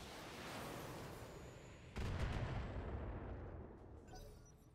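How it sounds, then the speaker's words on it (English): Missile salvo from a mech's LRM5 launcher in BattleTech, a sustained rumbling whoosh that bursts louder midway with a cluster of sharp launches, then slowly fades out. "I'm going to have to fire off our LM5s"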